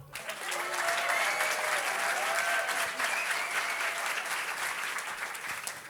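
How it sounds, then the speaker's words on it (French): A studio audience breaks into warm, sustained applause for a French radio comedian, swelling quickly, holding steady, then tapering slightly. "Charline Vanhoenacker, vous pouvez l'applaudir."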